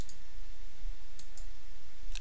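Computer mouse clicking during a software walkthrough of a web mapping tool: a handful of sharp, close clicks, some in quick pairs, over a faint steady background hum.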